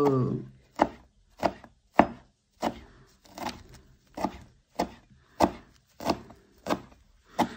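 Parsley being chopped with a hand mincer on a board, about a dozen crisp, evenly spaced chops in a steady rhythm, close and clear, with no talking.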